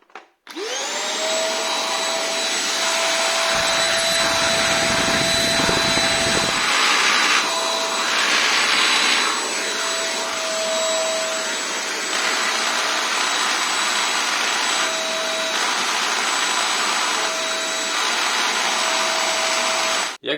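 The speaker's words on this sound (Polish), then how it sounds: "Spróbujemy sobie uruchomić ten odkurzacz." A Hoffen antibacterial UV vacuum cleaner whirs up and runs continuously with a loud, steady motor whine, its pitch shifting slightly as it moves.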